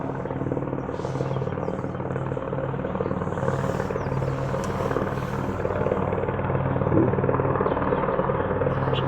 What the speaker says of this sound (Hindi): ये आप देख सकते हैं हवाई सेवा, जिसे मैं आपको जूम करके दिखाने का प्रयास करता हूँ